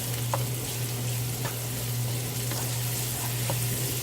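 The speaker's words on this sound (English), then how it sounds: "Just a squirt of garlic. Get that cooking up." Garlic fries in a pan over medium heat, giving a steady, even sizzle with small pops that runs unbroken for the whole stretch, close and with nobody talking.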